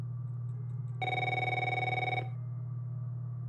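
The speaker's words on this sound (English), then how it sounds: "Oh, it's my cell phone." A cell phone rings in the horror game Until Lights Out: a single burst of electronic ringing lasting just over a second over a steady low hum, alone without talk.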